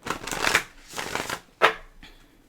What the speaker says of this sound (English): that was not a good shuffle at all